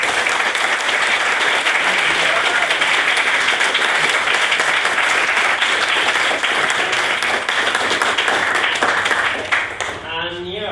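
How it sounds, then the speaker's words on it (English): Sustained applause fills a debating chamber after a maiden speech, steady and loud for about nine seconds, then fades as a voice begins speaking. "Again, please get another round of applause for Ms."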